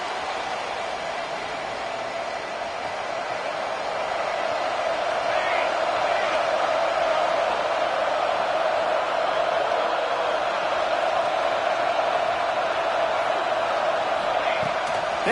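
Steady roar of a stadium crowd at a college football game between Vanderbilt and Mississippi State, a loud sustained wash of massed voices that swells slightly partway through and holds without pause.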